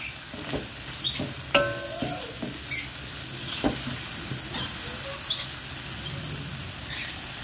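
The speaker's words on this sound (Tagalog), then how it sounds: "Lalagay na natin yung grated carrots." Grated carrots tumble into a pan of sizzling hotdog pieces for a tube-noodle spaghetti sauce, giving a steady close frying hiss with a few stirring scrapes and clicks, no voices.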